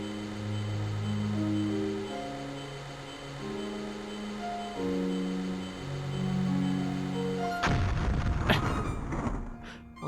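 An explosion in the video game Flower, Sun, and Rain bursts loudly and abruptly over calm background music, followed by a rumbling, crackling tail lasting a couple of seconds.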